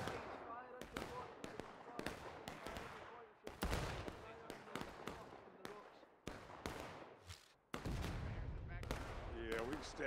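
Musket volleys in the Civil War game War of Rights, many sharp distinct shots cracking out near and far in an irregular rhythm, with voices talking between them.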